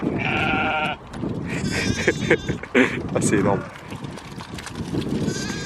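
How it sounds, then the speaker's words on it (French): Several sheep bleat loudly nearby in Ireland, one after another in wavering cries, while a person talks briefly among them outdoors. "Encore des moutons. Écoutez, écoutez."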